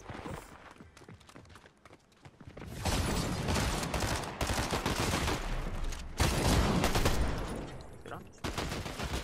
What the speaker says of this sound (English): Warning shot.